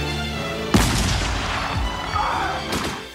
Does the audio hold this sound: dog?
no